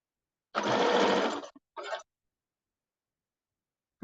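A sewing machine stitches a bomber jacket cuff and lining together in one steady whirring run of about a second, then a brief second burst, close up with silence around it and no talk.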